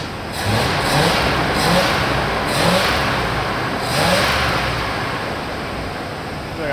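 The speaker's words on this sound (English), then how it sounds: "Rev it up." A carburetted engine in a 1987 Dodge Ramcharger truck revs repeatedly, loud and close, in several rising surges over a steady roar.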